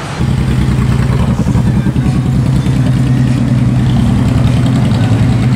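Three motorcycles idle together at a morning meetup before an expressway ride, a steady loud low rumble that holds evenly throughout with no one speaking.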